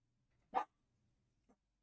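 A single dog bark, short and fairly faint, is followed by a much softer brief yip in an otherwise quiet room.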